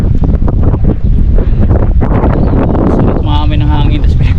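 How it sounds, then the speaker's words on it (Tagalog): Strong wind buffets the microphone in loud, constant roaring gusts, with a voice faintly underneath and a brief whine near the end. "sobrang lakas ng hangin"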